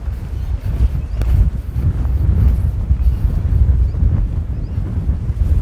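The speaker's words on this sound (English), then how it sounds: "it's getting a little bit windy out here." Strong wind buffets a phone microphone on a seaside pier at Hervey Bay, a loud, steady roaring rumble with gusty low-end thumps that never lets up, with no talking.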